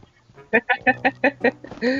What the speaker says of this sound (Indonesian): di PUBG ada suara ayam di PUBG ya guys ya